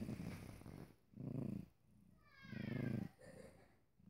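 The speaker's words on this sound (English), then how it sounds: "purring and snoring" A cat purrs and snores indoors in slow cycles, each breath a soft rumbling swell with quiet gaps between, close up and faint.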